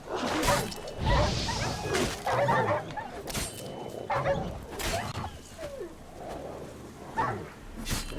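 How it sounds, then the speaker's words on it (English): Rabid dogs in a cemetery in The Witcher 3 bark, yip and whimper in repeated bursts, mixed with swishing combat sounds and brief grunts. "Rabid dogs in the cemetery."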